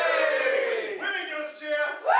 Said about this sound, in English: So men, give us a cheer.